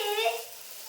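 A puri frying in hot oil gives a steady, close hissing sizzle that fades slightly over a brief moment, heard alone.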